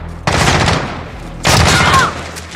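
Call of Duty Modern Warfare gunfire in a Domination match: two loud, close bursts of rapid automatic fire, each sustained for about a second, separated by a brief lull.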